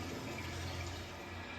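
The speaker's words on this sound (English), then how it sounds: "The heavy runoff passes through storm drains and down the hill" Heavy storm water runoff pouring through storm drains on a hillside: a dense, steady rushing and gushing flow, loud and continuous, with a low rumble underneath.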